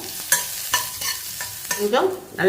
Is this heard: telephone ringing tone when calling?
no